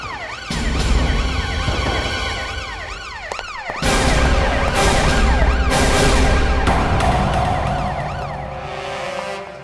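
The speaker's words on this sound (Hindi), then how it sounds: "ये तो हमारे ब्यूरो का सायरन है।" A loud emergency siren wails continuously, its pitch sweeping up and down over a dense bed of other noise, with a brief dip midway.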